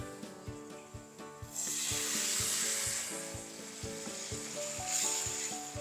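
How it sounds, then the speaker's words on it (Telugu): Onions frying in a pan for Tiffin Pongal, a loud, bright sizzle that swells up after a moment and continues steadily, with light stirring and background music underneath. "ఉల్లిపాయలు ఇలా బాగా వేగితేనే మంచి బ్రౌన్ కలర్ వస్తేనే బాగుంటుంది"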